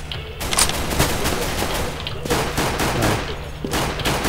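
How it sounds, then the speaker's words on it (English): Dense gunfire from the Counter-Strike: Global Offensive video game, rapid overlapping shots and bursts crackling continuously for several seconds at a loud, even level, with no clear speech. "They're all shooting at me."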